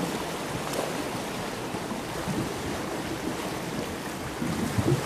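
Broad, steady wash of surf noise with a hiss of wind, waves rolling continuously at moderate distance at a beach in Sariaya, Quezon Province, with no voices.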